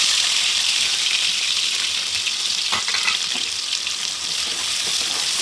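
Mustard seeds and green chilies frying in hot oil, a loud, dense crackling hiss that runs continuously and close up with a few brief pops and spatters.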